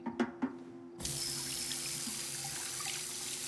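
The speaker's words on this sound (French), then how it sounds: "Je vais rincer ces verres vite fait." After two soft clinks of glass, a kitchen tap turns on and water runs steadily into a sink for rinsing glasses, a close, even rushing with faint splashes and no speech.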